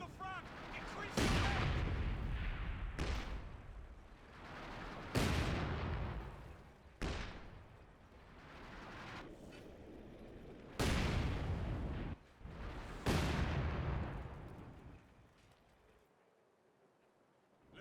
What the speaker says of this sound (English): It's pretty cheap to get to fire off another volley with the Panzerwerfer.